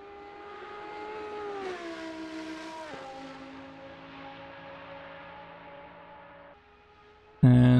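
A GT3 race car engine climbs the Nürburgring Nordschleife hill in a racing video game, a steady, moderately loud tonal drone that rises, dips briefly at a gear change, holds, then drops before a sudden loud burst at the end.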